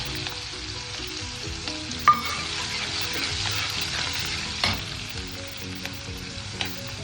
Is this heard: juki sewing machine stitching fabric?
no